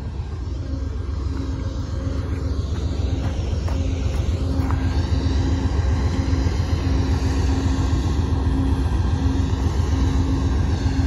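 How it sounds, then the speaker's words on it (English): A Union Pacific double-stack freight train rumbles past nearby, a steady heavy roar of engines and rolling wheels that holds throughout without letting up. "wait for the freight train to clear so we can watch it depart?"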